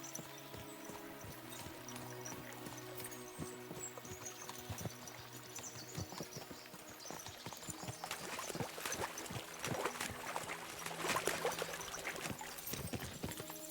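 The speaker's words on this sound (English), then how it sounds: "As soon as we cross the stream, we'll give the horses a gallop again." Rhythmic hoofbeats of horses galloping across a stream in the video game Kingdom Come Deliverance 2, mixed with a steady wash of flowing water and background game ambience, fairly quiet throughout.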